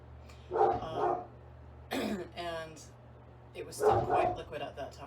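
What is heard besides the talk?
dog barking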